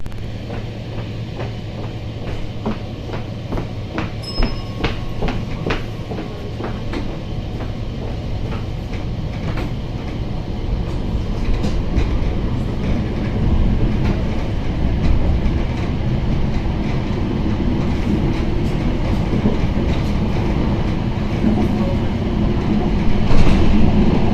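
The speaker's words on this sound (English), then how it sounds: "This runs some Variobahn tram trains which go 50 miles an hour." A Variobahn tram train rolls steadily along the tracks in Chemnitz, Germany, wheels clicking over rail joints beneath a low, constant rumble that slowly builds in loudness.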